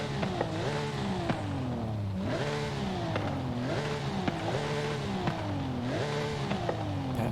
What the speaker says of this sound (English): So what does this engine sound like with an exhaust then?